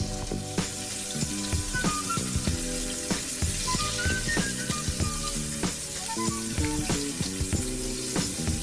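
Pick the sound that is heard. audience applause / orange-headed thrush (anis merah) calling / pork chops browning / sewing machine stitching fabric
pork chops browning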